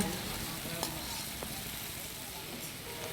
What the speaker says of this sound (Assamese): খুব সুন্দৰকৈ পিঁয়াজ আৰু জলকীয়াৰ লগত ভাজি দিম